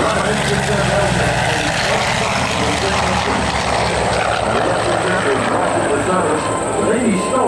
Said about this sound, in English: The R2800 engine, one of the most powerful built to power our fighters during World War II.